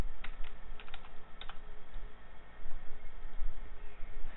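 Quick, light clicks and taps of typing on a computer keyboard come in uneven bursts, close up, with no voices.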